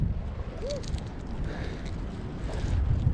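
Steady wind rushes over a fishing boat out at sea on a hot day, a continuous broad roar with faint whistling tones and no clear talk.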